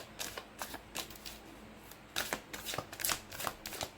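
Angels of Abundance oracle cards shuffled by hand, a series of crisp riffling bursts and soft flicks that grow busier and louder in the second half, close and alone with no talk.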